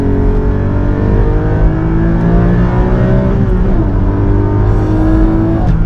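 Porsche GT4 with a manual gearbox, driven on a track, its engine droning loud and steady with rising and falling rev harmonics, crackling burbles and automatic throttle blips throughout.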